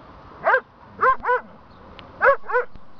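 Dogs chasing a small dog let out sharp barks and yips in a few quick bursts, five close, loud calls in pairs and singles against a quiet outdoor background.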